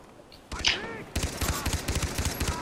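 Rapid automatic gunfire rattles in a fast rhythmic burst during co-op play of the video game Far Cry 3, following a few earlier single shots and continuing to the end.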